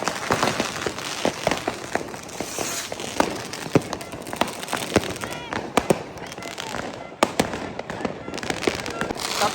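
Dense New Year's fireworks in Germany, set along a river, burst all around in a rapid run of sharp cracks and pops, some close and loud, others distant, over a steady crowd murmur and occasional talking.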